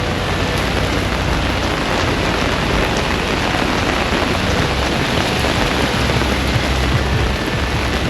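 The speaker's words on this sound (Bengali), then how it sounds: "প্রচণ্ড বৃষ্টি হচ্ছে" Heavy rain pours down on a street in Langkawi in a loud, unbroken hiss, steady and close throughout.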